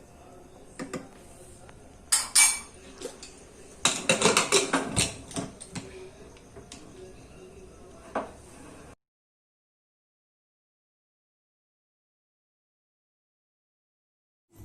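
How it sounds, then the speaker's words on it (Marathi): A lid being fitted onto a pressure cooker of masoor rice in a home kitchen: a few close metallic clanks and scrapes in quick bursts, then quiet. "झाकण लावून घेऊ आता."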